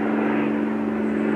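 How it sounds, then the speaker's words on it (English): An airplane passes overhead with a continuous, broad engine roar. The sound is steady and fairly loud throughout the short stretch, with no voices. "Airplane."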